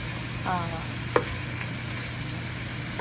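A steady sizzle of chicken frying in a pan, with a brief clatter of a utensil partway through.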